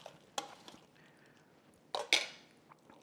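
Macaroni salad stirred in a bowl with a utensil, giving a few soft, wet clinks and scrapes in quick separate bursts against a quiet background.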